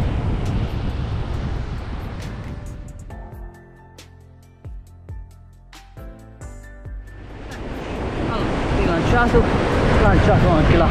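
Strong wind gusts roar across a surf beach where someone is surfcasting, loud broadband buffeting at the start and end of the clip, easing in the middle where a few faint tonal clicks and knocks come through.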